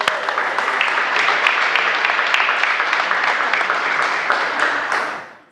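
A church congregation applauds in a dense, loud burst of clapping that holds steady, then fades out quickly at the end.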